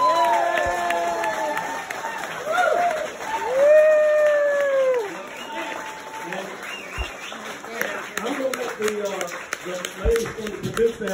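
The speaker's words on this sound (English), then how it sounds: "Let's give him a round of applause." A crowd claps and cheers at a bluegrass music barn award ceremony, with voices calling out over the applause and a harmonica-like tone running through the middle.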